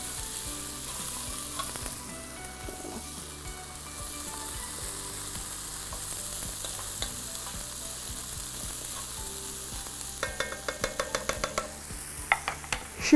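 Chicken pieces and mushrooms fry and sizzle steadily in a pan for creamy mushroom chicken, with a spatula stirring and scraping; a run of sharper clinks and scrapes comes toward the end, and no one speaks.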